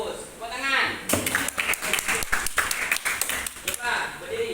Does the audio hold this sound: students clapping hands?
yes